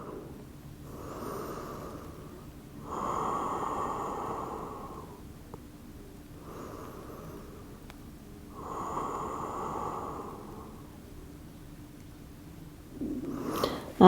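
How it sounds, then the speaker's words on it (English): Slow, deep breaths during yoga practice, three long airy inhale-exhale cycles, close and soft with quiet gaps between them. "Let's take 2 more breaths here."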